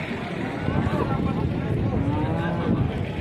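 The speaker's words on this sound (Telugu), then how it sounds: "భారీ ఆవులు వచ్చినాయి." Cows at a busy cattle market where farmers gather to buy, with lowing that blends into a steady crowd murmur and voices talking throughout.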